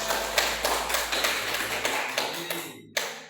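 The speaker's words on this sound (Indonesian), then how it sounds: "Ya, tepuk tangan." Classroom of students clapping hands after a group's storytelling presentation, a close burst of uneven claps that fades out with a few scattered final claps.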